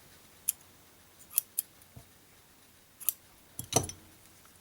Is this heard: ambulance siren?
no